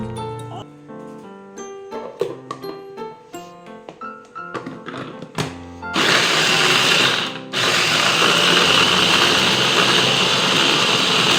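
Tonal beeps are followed by a loud, harsh whirring of an electric food chopper running in two bursts with a brief pause between them.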